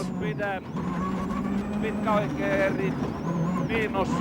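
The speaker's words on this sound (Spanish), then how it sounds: "Vamos en el coche del finlandés Harry Rovanperä en el Peugeot 206." Harry Rovanperä's Peugeot 206 rally car heard from onboard, engine steadily droning with repeated gear-change pitch shifts, under a voice talking over it throughout.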